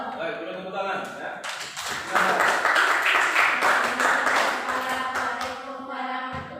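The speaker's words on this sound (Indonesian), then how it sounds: "Baik, beri tepuk tangan ya." Students applauding in a classroom, a burst of mixed clapping that swells and carries on for several seconds, with voices talking over and around it.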